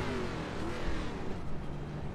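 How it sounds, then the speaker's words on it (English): A 305 sprint car engine runs at a dirt track, a steady loud mechanical drone with a slight wavering pitch through the short stretch, with no voices over it. "I love the way this car sounds."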